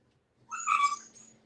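A house cat gives a single drawn-out meow, fairly close and moderate in volume, rising then fading over about a second against a quiet room with no talking.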